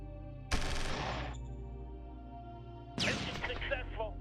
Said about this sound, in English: We'll still use our artillery and we'll mush him into the ground.